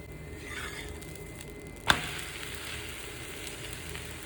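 Ragi dosa batter cooks in oil on a hot griddle with a soft, steady sizzle and one sharp clink midway, no talk.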